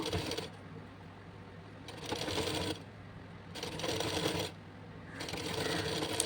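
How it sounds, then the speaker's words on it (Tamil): A sewing machine stitches the lining of a blouse along a half-inch seam, running in steady rattling bursts of a second or two with short pauses between them. "இப்போ அரை இன்ச்சுக்கு வந்து தையல் போட்டு முடித்தாச்சு"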